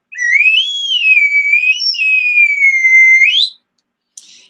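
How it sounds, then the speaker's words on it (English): A single long, bright whistle with sliding pitch, rising and dipping for over three seconds, loud and close, followed by a brief faint squeak. "I love this whistle."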